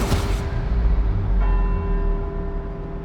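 Church bells ring across Edinburgh in the racing game Forza Horizon, a dense, steady peal of several bells with a strong sustained hum, loud throughout and without speech.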